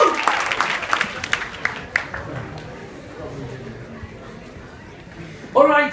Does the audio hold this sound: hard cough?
no